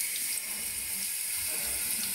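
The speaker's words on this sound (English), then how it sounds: "Give it a little rinse under some water to remove the remaining parts of shell." Steady running tap water splashes into a sink as a shelled egg is rinsed under the stream, a constant hissing flow with no voices.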